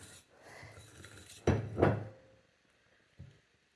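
A spoon scrapes the sides of a bowl of pecan praline candy, two short loud scrapes close up, then a softer knock after a pause.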